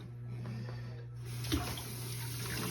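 Water running from a tap to rinse out a Parmesan container in a home kitchen, a faint steady splash that grows fuller partway through, with a light bump of handling.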